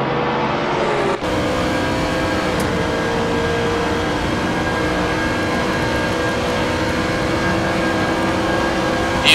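An Aston Martin GT race car at Monza shifts down and back up through its gears, a loud, sustained engine roar close by with a sharp break early on, then a steady drone.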